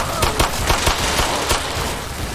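A pistol fires rapidly against zombies in the Roblox game Those Who Remain, a string of loud close gunshots in an irregular burst that dominates the clip.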